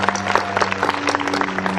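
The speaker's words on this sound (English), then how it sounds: "you ought to have a round of applause for all of them" Crowd applause at a children's advocacy rally with gubernatorial candidates, short bursts of clapping over a steady low hum, close and fairly loud throughout.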